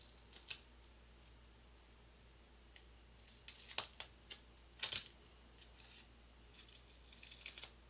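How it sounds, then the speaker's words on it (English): Scissors snipping paper into thin strips for a snow globe shaker card, a few sparse, quiet cuts spread apart against a faint background hum. "Then what I'm going to do is cut this into thin strips to go around."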